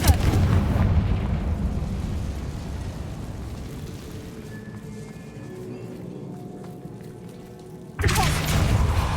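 Fiery Confringo spell blasts in Hogwarts Legacy, a dense rumbling explosion that opens loud, fades into a long low crackling decay, then a fresh loud burst strikes near the end.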